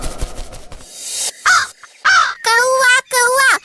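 A crow caws in a Ramayana audiobook, giving four loud, harsh caws in quick succession close to the listener after a brief rustle.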